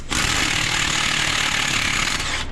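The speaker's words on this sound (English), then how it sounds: "I'm gonna hone it out with a drill bit" Drill bit boring out a misaligned manifold bolt hole on an engine, a loud continuous high-pitched grinding whine held steadily for a couple of seconds with no talk.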